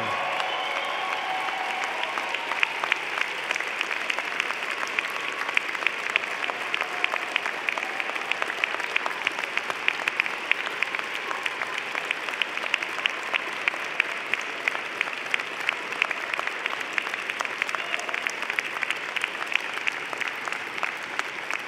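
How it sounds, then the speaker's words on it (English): Large convocation audience applauding a university graduating class, a long, even wash of many hands clapping in a big hall, steady and sustained throughout. "join me in applauding the amazing graduating class of October 2017"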